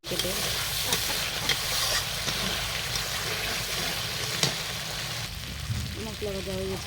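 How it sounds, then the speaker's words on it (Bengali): Ground spice paste sizzling and frying in a pan after small puti fish were fried, a steady close hiss with occasional stirring scrapes throughout. "এই যে বাটানো মশলাটা দিয়ে দেবো এখন।"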